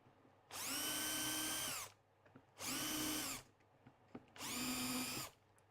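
A power drill with a 2.5mm bit bores into plywood in three separate bursts, each spinning up to a steady whine for about a second and a half before stopping, with short quiet gaps between.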